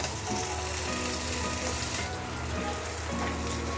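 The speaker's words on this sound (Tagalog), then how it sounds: "Lagay na natin yung ating Nestle cream, all-purpose cream, 125 ml." Nestle all-purpose cream hits a hot pan used for pork chops and sizzles with a loud, even crackle throughout, close by and with no talking.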